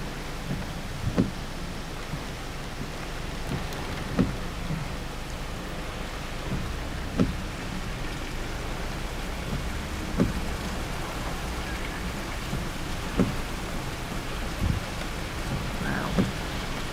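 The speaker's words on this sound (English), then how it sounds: "Raining." Heavy rain during Tropical Storm Faye on a farm, a steady dense hiss with repeated sharp low thumps and rumbles of thunder every few seconds, no talk.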